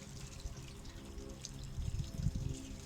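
Tap water runs through the stainless steel tubing of a homebrew wort chiller, a steady close rushing flow with faint trickling and bubbling, alone without talk.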